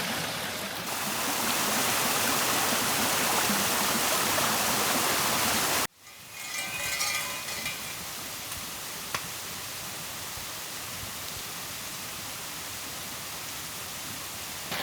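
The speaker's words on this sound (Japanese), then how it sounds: "滝がこの山腹から、湧き出てます。" Rushing white water of a waterfall pouring from a mountainside at Semi Onsen, Yamagata, roars loudly and steadily, then after an abrupt cut continues as a softer, more distant flowing wash.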